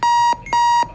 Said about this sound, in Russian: Блядский будильник, чтоб ты сдох